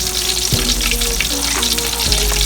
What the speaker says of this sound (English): our shrimp be frying out there